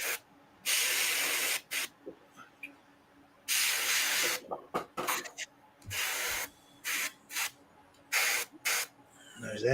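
An airbrush or spray gun applies deep blush paint onto a sculpted hand in irregular hissing bursts of varying length, close and fairly quiet, with brief gaps between passes.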